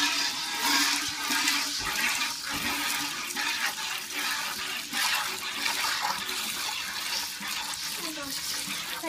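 Milk squirts into a pail during hand-milking of a cow, heard as a continuous close, rushing liquid sound with slight pulsing throughout.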